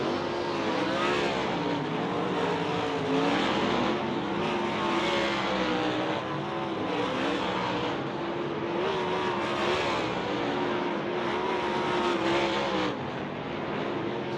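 Dirt track race cars lapping at Tri-City during a High Limit sprint car event, engines roaring continuously and loudly with rising and falling revs as the field passes, no talk over it.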